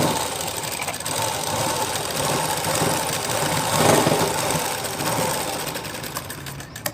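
Sewing machine running steadily while stitching the side seam of a blouse from the armpit down, a continuous close whirring hum that holds for the whole stretch and eases off near the end.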